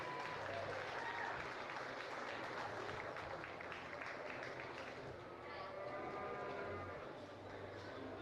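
An audience applauds in a county fair livestock arena, with steady, dense clapping filling the space while a voice talks faintly underneath.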